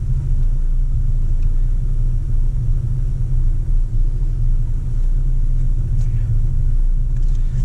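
A Toyota Tacoma pickup idles low and steady while backing a heavy trailer into place, a deep, even engine rumble close by with no talking.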